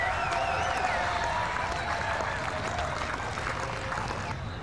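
A Test cricket crowd at Galle applauds Shane Warne with sustained clapping and cheering, a broad steady roar held at even loudness throughout, with a commentator talking over it.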